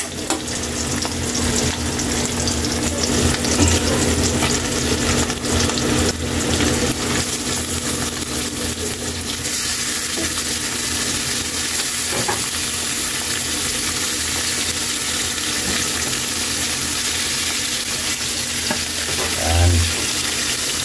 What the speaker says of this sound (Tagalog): Ilagay na natin yung pork.